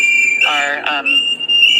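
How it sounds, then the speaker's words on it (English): Protesters whistle at a passing vehicle in a shrill, sustained, high-pitched tone. A voice cuts in briefly in the middle before the whistle carries on alone. "Folks are whistling at this."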